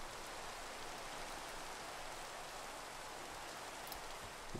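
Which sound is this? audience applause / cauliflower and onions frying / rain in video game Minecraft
rain in video game Minecraft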